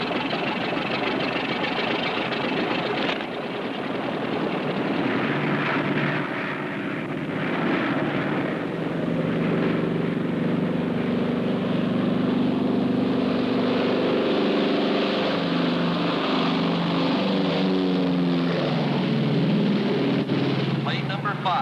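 Airplane engines droning at a runway starting line before a 1951 air race, a steady loud rumbling hum with shifting pitch that fills the whole stretch, with voices heard faintly beneath.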